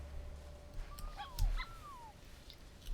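Small badger cubs in the video game Shelter give brief high yips and whimpering barks, a few calls in quick succession over a quiet background.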